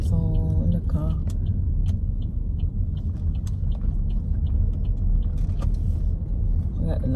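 Road rumble from a car driving home on a cold Florida morning with its interior lights on, a steady low drone running throughout, close and continuous, with faint clicks and rustles from inside the cabin.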